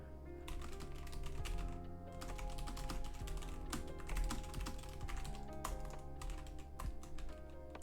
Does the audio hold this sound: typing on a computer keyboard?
yes